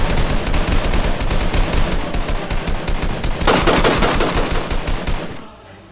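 Rapid bursts of gunfire pour at Jacob, continuous loud automatic shots with a denser fusillade near the end before cutting off into quiet.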